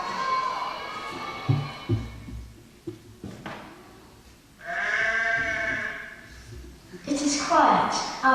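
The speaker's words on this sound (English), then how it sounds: "out in the hills, there is the occasional sad call of sheep as they begin to settle down for the night." Sheep bleat now and then in the evening hills, their calls rising as a drawn-out bleat near the middle and a louder cluster toward the end, over a busy background of crowd noise and children's voices.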